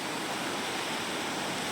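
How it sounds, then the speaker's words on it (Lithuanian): Mountain stream rushing steadily, a dense, even broadband wash of flowing water heard up close with no voices. "Kalnų upelis."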